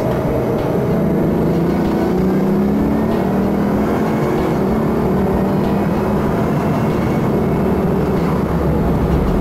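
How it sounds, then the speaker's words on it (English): Record-holding fastest production car accelerating hard to 140 mph, a loud continuous engine roar with rising tones and heavy wind and road noise, sustained and close throughout, no talk. "When you step on the acceleration pedal, on the gas pedal, the thing just goes."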